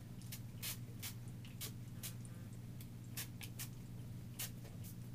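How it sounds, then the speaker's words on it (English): White Rain extra hold hairspray sprayed onto hair in short repeated bursts, about a dozen quick hissing spritzes in an uneven rhythm, close and fairly quiet over a low steady hum. "So what I'm going to do is just spray it like this."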